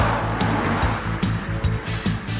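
Bentley Azure engine pulling hard under acceleration, a loud low throbbing growl with pulsing rhythmic beats and brief higher bursts, close by, with no talk over it.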